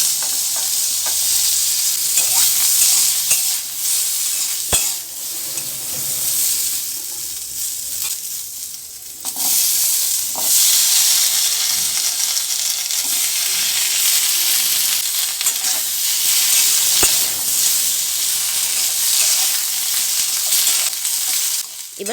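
Dry red chilli, split in two, sizzling in mustard oil in a kadai for tempering, a loud steady frying hiss with stirring scrapes and occasional sharp clicks, no talking.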